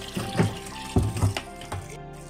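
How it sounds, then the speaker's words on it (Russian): Spring water running steadily out of pipes at a rural holy site, a close, continuous splashing flow with uneven gurgling pulses and no talk. "Интересно, вот откуда тут вода постоянно течет?"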